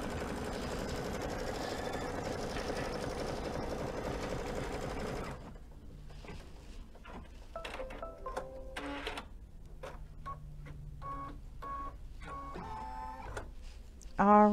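An embroidery sewing machine stitches a fabric bookmark, running as a steady, loud mechanical whir for about five seconds before dropping to quieter, intermittent clicks and short stitching bursts.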